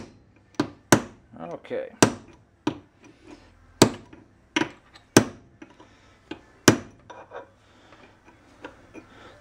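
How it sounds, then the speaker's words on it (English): Sharp metallic hammer strikes on a nail set land one after another at an uneven pace, close and loud, during a Datsun truck kingpin rebuild, with a short spoken word among them. "I'm using the nail set again."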